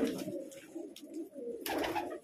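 Pigeons cooing in a large flock of about 150 to 200 birds, soft low repeated coos close by, with a sharper flutter or scuffle near the end.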